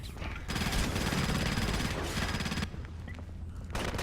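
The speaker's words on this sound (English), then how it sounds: "Keep fighting with the Gauss rifle" Gauss rifle fire in the video game Crysis Warhead, a dense loud burst of shots and impacts that cuts off abruptly, then a quieter gap and a fresh burst at the end.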